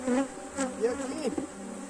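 Honey bees swarm around hive frames with a dense, continuous buzzing drone, close and steady, with individual bees rising and falling in pitch as they fly past.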